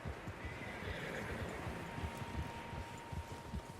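Several horses in Red Dead Redemption 2 whinny loudly while their hooves clip-clop in a steady rhythm over a soft outdoor ambience.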